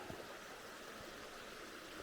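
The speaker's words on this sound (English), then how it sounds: "A nice little creek here, though." A small creek flows through forest in Oregon's Coast Range, giving a soft, steady, faint watery hiss with no breaks and no voices.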